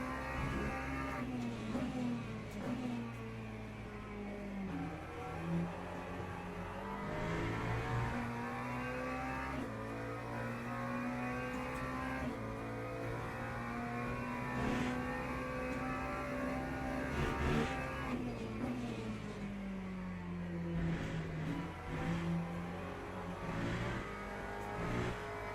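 Porsche race car engine on a wet track, a continuous close engine drone that rises and falls through gear changes and revs for the whole stretch, steady and moderately loud with no talk.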